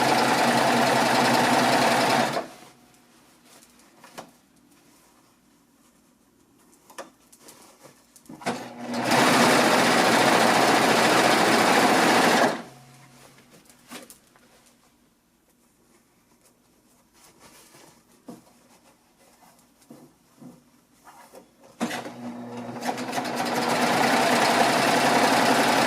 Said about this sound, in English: you're going to stitch your body on.